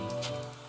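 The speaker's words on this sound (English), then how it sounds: "Still raining." Steady rain patters on surfaces in Shining Resonance Refrain, a soft continuous hiss of drops, brief and fairly faint with no voices.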